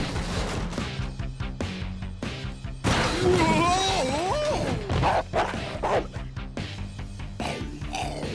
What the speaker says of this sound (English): Monster dog!